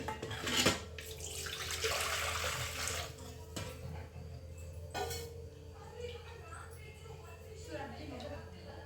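Water used to rinse a grinding stone is poured out while mutton curry masala is being made, giving a splashing pour at the start followed by softer trickles and clinks, with talk nearby.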